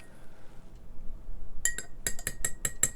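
A spoon stirs a cup of tea, giving a quick run of bright clinks against the cup that starts partway through, close and fairly loud over a quiet room.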